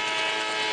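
Train noise in a dramatized scene of the last train pulling into an empty station at 12:20 at night, a dense steady rumble with no speech, heard for less than a second.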